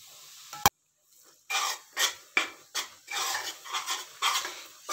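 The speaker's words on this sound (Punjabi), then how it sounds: "ਘਿਓ ਨੂੰ ਗਰਮ ਕਰਕੇ ਪਹਿਲਾਂ ਆਪਾਂ ਬੇਸਣ ਭੁੰਨਣਾ ਹੈ।" Gram flour roasting in hot ghee in a pan for atta gond pinni, heard as a series of scraping, rasping stirs against the pan with short pauses between strokes, close and fairly loud.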